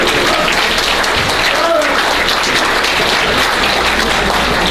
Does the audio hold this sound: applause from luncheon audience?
yes